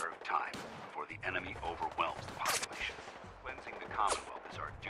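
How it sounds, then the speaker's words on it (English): Scattered gunshots in Fallout 4 pop out over a busy game mix, with voices talking through most of it and the shots sounding fairly close. "Where are we being shot at from?"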